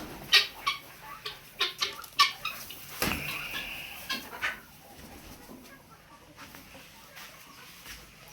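Chickens in a poultry farm shed holding large laying hens give a run of short, close clucks over a quiet rural background.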